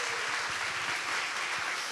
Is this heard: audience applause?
yes